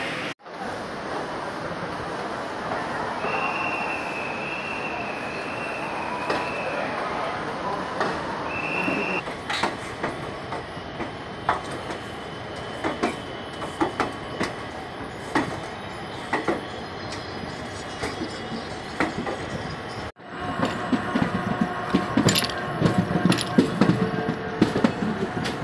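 The Kavi Guru Express departs at night from Howrah railway station with a steady rumble of rolling wheels and carriages, brief high squeals and clattering rail joints growing denser toward the end.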